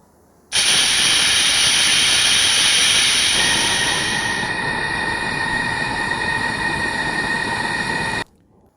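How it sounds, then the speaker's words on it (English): Pressurized gas rushes from a cylinder into a small bottle as a loud, steady hiss that starts abruptly, shifts slightly in tone partway through, then cuts off sharply after about eight seconds. "this is a gas cylinder and I am pushing in pressurized gas through this small bottle"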